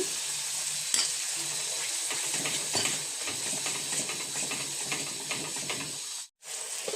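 Whisked yogurt hitting hot oil in a pan for a vegetarian potol dorma (stuffed pointed gourd) on lowered heat gives a loud, continuous hissing sizzle with faint stirring clicks, then a brief cut to silence near the end.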